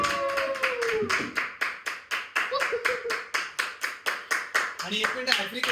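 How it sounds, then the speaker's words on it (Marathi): A small group at a surprise birthday celebration claps in a steady rhythm, about twenty sharp claps over several seconds, close by, with voices talking and calling out over the clapping. "टाळ्या टाळ्या"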